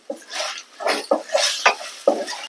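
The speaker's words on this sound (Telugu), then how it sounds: "జీలకర్ర కూడా వేగిన తర్వాత రుచికి సరిపడా ఉప్పు వేసి కలుపుకోవాలి" A spoon stirs salt into fried cumin seeds and garlic paste in a pan for jeera rice, making about half a dozen short, close scraping strokes with small clinks between them.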